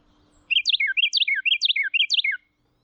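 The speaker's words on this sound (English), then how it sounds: "All the calls you hear wrens making, whether songs or not, all serve as important messages to one another." A Carolina wren sings a clear, loud, repeated phrase of four quick rolling whistled notes in steady rhythm, close by and alone, then falls silent.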